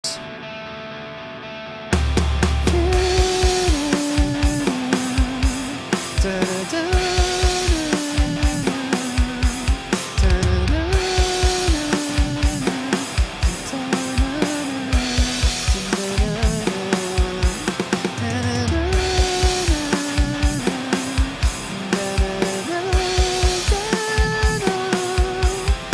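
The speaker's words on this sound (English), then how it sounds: "So I've gone ahead and programmed some drums for the chorus." Programmed rock drums for a rock/metal song chorus pound in a steady, driving pattern under sustained distorted instruments, with regular loud hits and brief pauses near the start and at section changes, continuous and full with no talking.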